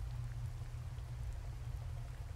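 Steady rain falls in the tropical survival game Card Survival: Tropical, a low, dense, continuous patter of drops that holds at an even level throughout with no voices.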